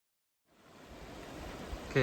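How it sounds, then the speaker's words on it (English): Creek water flows steadily on the Colorado Trail, a broad, constant rush that fades in after a short silence and stays at moderate level, with a brief voice at the very end. "we're here at the creek and we gotta cross this thing"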